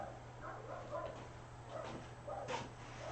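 Casper the dog barks and yips in short bursts at moderate distance indoors, several separate barks spread through the moment over a steady low electrical hum.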